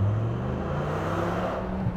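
A 1995 Dodge Viper accelerates, its deep steady engine drone rising slightly from inside the car, fairly quiet and continuous with no voices.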